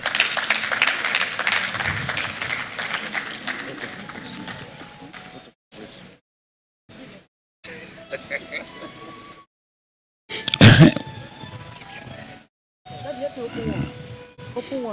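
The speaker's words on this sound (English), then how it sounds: "Let's clap her." An audience applauds a member being decorated for five years of service at a chapter safety event, scattered claps in the opening seconds under ongoing talk, followed by broken stretches of speech and pauses.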